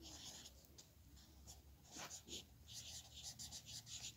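Writing on a classroom board, with scratchy strokes repeating in short bursts at close range, a voice faint in the background.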